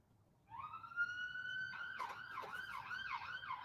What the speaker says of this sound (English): Oh, sorry about the sirens.